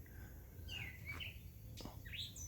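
Doves calling outdoors on a clear, slightly breezy day near a house with potted plants, a few faint distant calls drifting over quiet background air, no talk.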